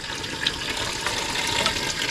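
Water running steadily into a drum used for spraying, an even rushing pour at close range with no talk over it.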